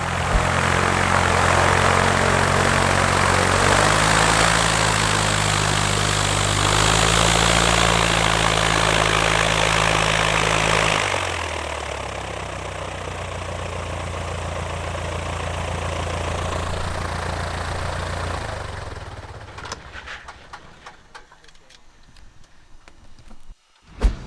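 A light propeller aircraft idles and taxis along a grass taxiway at Welshpool, its engine humming steadily and shifting pitch before winding down toward silence near the end.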